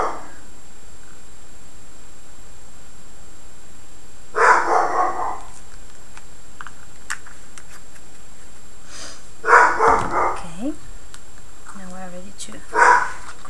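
A dog barks in short bursts spread across the stretch, a few yips at a time separated by quiet, and is heard indoors from a little way off.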